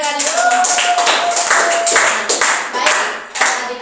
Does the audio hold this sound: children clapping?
yes